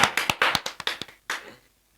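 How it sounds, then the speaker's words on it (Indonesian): A small group claps at a program launch for an election commission podcast, about a dozen sharp, close claps in quick irregular rhythm, then a short final burst before silence. "Kita beri tepuk tangan"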